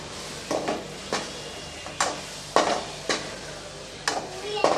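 Steady sizzling of chicken frying in a pan, with periodic scraping strokes of a spoon stirring it, about one every half second to second.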